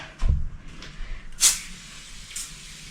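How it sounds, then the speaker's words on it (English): After a dull thump, a spray bottle of Bon Ami glass cleaner gives two short hissing spritzes close by behind a stove, the first sharp and the second fainter. "I'm spraying Bon Ami glass cleaner on there"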